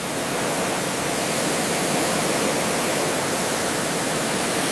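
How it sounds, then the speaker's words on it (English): A pressure washer blasts rusted sections of a World War II Fat Man bomb casing, a dense, even hissing spray that holds steady and loud throughout with no voices. "we'll hit these rusted sections with the pressure washer"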